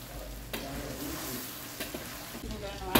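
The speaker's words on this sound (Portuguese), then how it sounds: "Olha, já está fritando." Steady sizzling and crackling of pork leg frying in a pan without oil, splashed with water, with occasional sharp pops and scraping stirs.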